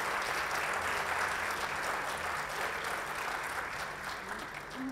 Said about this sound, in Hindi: तालियां हर वक्त, तालियां